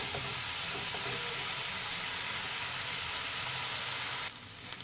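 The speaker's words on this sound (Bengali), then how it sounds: "এখানে 1 চামচ আদা রসুন বাটা দিয়ে দিলাম। সবগুলোকে ভালো করে ভেজে নেব।" Onion with ginger-garlic paste sizzles and fries steadily in a pan, a dense continuous hiss close up with no talk, dropping off sharply near the end.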